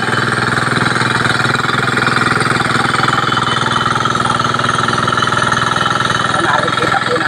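A ride-on plowing machine working a flooded rice field in the Philippines gives a loud, steady, rattling engine drone that runs on without a break.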